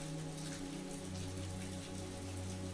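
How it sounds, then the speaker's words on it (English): Steady rainfall on a rainy day in New York, a continuous even hiss of drops spread across the sound with no voices. "The rain continued to fall, its steady rhythm urging her forward"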